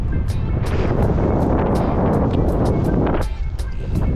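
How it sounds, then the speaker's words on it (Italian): Strong headwind roars across the microphone while riding a Cannondale Topstone Carbon 2 gravel bike through the Po Delta park, a loud, steady rush broken by repeated sharp clicks and rattles. "Ora c'è un po' di vento contrario"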